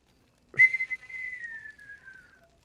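A single sharp whistle in the RedM video game: a clear tone that starts abruptly, then glides slowly downward and fades over about two seconds against silence.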